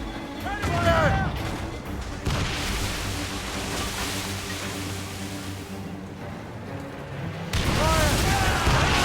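Booming cannon fire from a sailing ship's broadside in Assassin's Creed Rogue, heavy blasts at the start and end with rumbling battle noise between, under shouted crew voices.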